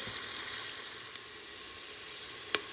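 Onions sizzle and fry in a pan with turmeric powder and a tablespoon of salt, cooking for Kerala ghee rice: a steady, fairly soft crackle with a couple of brief sharper pops, no voices.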